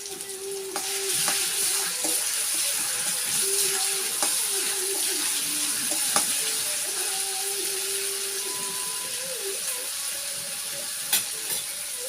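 Chopped garlic and ginger frying in hot oil in a pan, a steady bright sizzle with occasional scrapes and clicks of a stirring spoon, continuous and close throughout.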